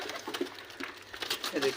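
Pigeons kept in a loft, including a fluffy feathered pair, give soft cooing calls under nearby speech, with a fuller coo near the end.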